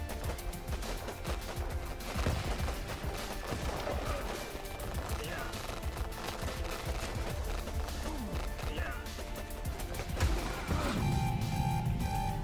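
Rapid gunfire in the video game Warpips crackles steadily throughout, dense bursts layered over a busy soundtrack, with a louder burst near the end.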